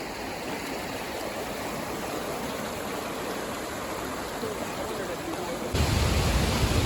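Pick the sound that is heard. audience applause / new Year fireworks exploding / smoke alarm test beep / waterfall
waterfall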